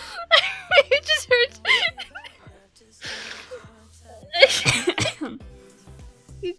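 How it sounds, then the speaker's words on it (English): Several coughs and throat-clearing bursts from a player on voice chat during a Minecraft FNAF Wonderland session, close to the mic and mixed with gasps, giggles and short vocal sounds. "I heard you cough!"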